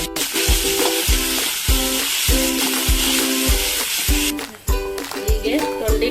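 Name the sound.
frying chopped ivy gourd in oil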